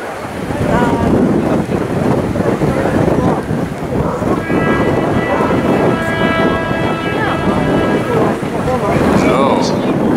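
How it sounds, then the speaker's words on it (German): Strong gusty wind at a harbour during the Tall Ship Races buffets the microphone with loud continuous rumble and roar, with faint water and boat noise beneath and no clear words. "ich werde vom Wind fast umgepustelt manchmal"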